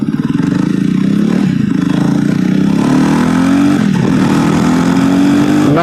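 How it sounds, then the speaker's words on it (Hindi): Jawa Perak motorcycle exhaust under acceleration, a loud close thumping engine note that climbs in pitch through the gears with brief drops at shifts, steady and continuous throughout. "इसका एग्जॉस्ट नोट इतना अच्छा है ना."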